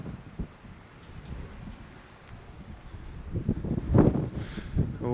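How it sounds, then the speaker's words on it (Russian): Strong wind rushes and buffets across the microphone at Suursadam on Hiiumaa island, Estonia, with low rumbling gusts that build louder toward the end. "ветер тут не слабый гуляет"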